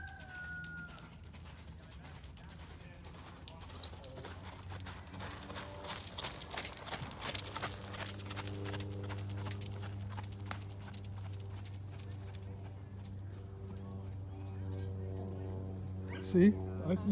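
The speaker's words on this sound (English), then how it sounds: "she's a good looking horse?" A horse's hooves clip-clop in irregular beats, fairly near, with voices talking at times over faint outdoor sounds and birds.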